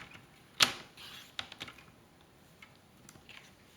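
Card stock cut with a paper trimmer while making a Stampin' Up! card: one sharp close slicing snap, followed by a few softer clicks and light taps, quiet overall.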